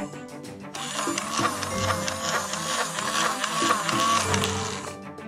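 A Peppa Pig Once Upon a Time Dragon Flyer toy whirs as its motorised wings flap on their own, a close mechanical buzzing with rhythmic clicking pulses that swell and dip over several seconds, no voices.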